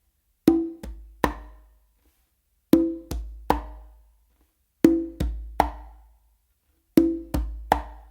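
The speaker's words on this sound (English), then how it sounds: "So I start this pattern with an open with my dominant hand" Conga groove of open tones and close slaps played by hand, four short phrases of three sharp strokes each separated by pauses, close and clear with no talking.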